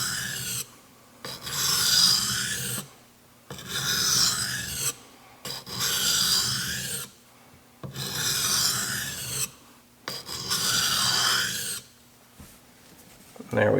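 Custom Chris Reeve knife being sharpened on a whetstone, with six long, even rasping strokes separated by short quiet gaps, close and clear.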